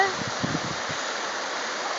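A Kerikeri river flows with a steady, even rush of water, close and continuous, and a brief low murmur near the start.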